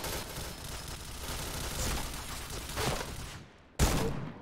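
Rapid gunfire in the first-person shooter game Point Blank, a dense, continuous burst of shots that cuts out briefly and then resumes.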